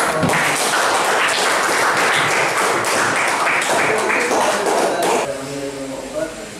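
A group applauds with dense, steady clapping for about five seconds before it fades out, leaving a faint voice afterward.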